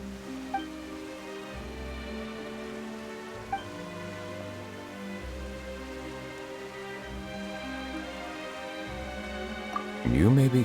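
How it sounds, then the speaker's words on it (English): Steady rain falling in Genshin Impact, a soft continuous patter under background game music, with a louder burst of sound at the very end. "Why is it raining all of a sudden?"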